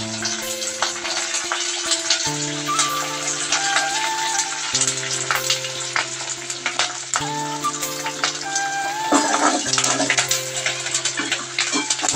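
Onion and curry leaves frying in oil in a pan at home, a steady, loud crackling sizzle that runs continuously throughout, with a faint hum of a kitchen appliance beneath.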